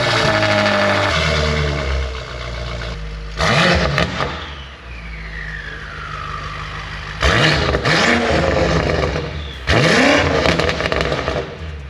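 A BMW M8 with newly installed downpipes revs hard, three loud bursts of rising engine roar with crackling exhaust between steadier idle stretches, close and powerful.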